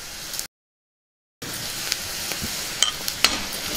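Onions with ginger garlic paste frying in a pan, a steady close sizzle broken by a brief dropout, then resuming with a few sharp spatula clicks and taps, no talking.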